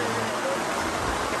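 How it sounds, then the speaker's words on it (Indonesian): Rain falling on a mountain campsite during a hike: a dense, steady hiss of rainfall with no breaks. "Udah dikasih hujan lagi."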